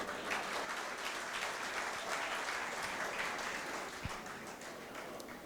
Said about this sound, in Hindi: ये 10-15 तालियां बजी